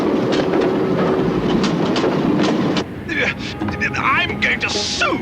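An animated cartoon train rolls along a railroad with a loud, steady rumble and clatter, then the noise drops away as a character speaks over lighter background sound.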